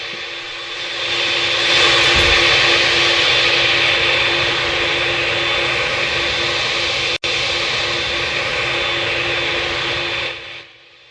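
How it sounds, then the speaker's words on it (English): Jet engines of a Singapore Airlines airliner heard from inside the cabin, a loud, steady roar and hiss that swells, holds for several seconds, then tapers off near the end, with no talking. "Listen to what's going on inside when the engines are rolling."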